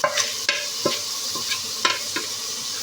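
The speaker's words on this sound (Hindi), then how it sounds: "इसको बस थोड़ा सा हम मिक्स कर लेंगे, 2-4 दफ़ा बस चलाएंगे" A spoon stirs minced mutton with korma masala and tomatoes in a sizzling pan, giving several distinct scraping strokes at an uneven rhythm over a constant close frying hiss.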